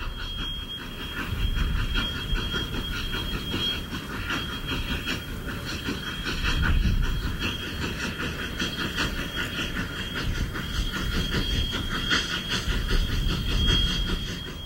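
A 1950s Rio Grande narrow gauge steam freight train climbs a steep mountain grade, rumbling and hissing with a steady rolling clatter and repeated low chuffing swells, heard fairly close with no voices.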